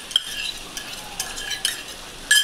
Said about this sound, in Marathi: त्याला चांगलं फेटून घ्यायचं.